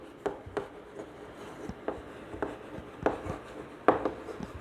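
A pen or chalk writes out a math solution, with short scratchy strokes and taps in an irregular rhythm, close and fairly quiet against faint room noise.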